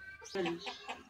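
Native hens cluck in short bursts inside a pigeon coop they have taken over, close and fairly quiet, a few quick clucking notes over about a second.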